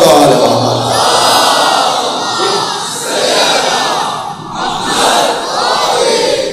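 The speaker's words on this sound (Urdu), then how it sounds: "صلوات پڑھے محمد و آل محمد." A large crowd loudly recites salawat together in unison, voices swelling and falling in long phrases.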